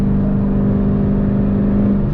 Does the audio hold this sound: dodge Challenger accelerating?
yes